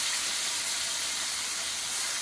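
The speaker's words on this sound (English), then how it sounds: "And then we're going to start frying these." Thin beef steaks frying in a hot pan, a steady soft sizzle and hiss with no break, fairly faint and close, no talk.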